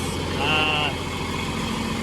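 A John Deere 4020 tractor engine runs at a steady idle, a low continuous rumble with a brief higher whine near the start, while someone talks over it.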